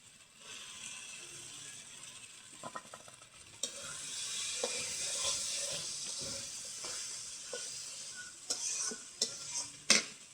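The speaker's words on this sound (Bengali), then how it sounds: "গরুর মগজ দিয়ে তারপর সুন্দর করে ভাজা ভাজা করে নিমু" Beef brain fries in spiced oil in a pan, a steady hiss of sizzling punctuated by scraping and clinking of a metal spatula stirring, with sharper clatters near the end; no voices.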